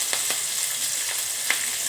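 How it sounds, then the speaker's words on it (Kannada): Green chillies dropped into a crackling tempering of mustard seeds and cumin in hot oil, a steady close sizzle with a few sharp pops, no voices. "ಅದು ಚಟಪಟ ಅಂತಿದ್ದಂಗೆ ನಾನು ಹಸಿಮೆಣಸಿನಕಾಯಿಯನ್ನು ಹಾಕ್ಕೊಳ್ತಾ ಇದ್ದೀನಿ"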